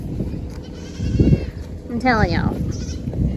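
Goats on a farm bleat in a couple of nearby wavering calls, heard under and between someone talking amid outdoor background noise.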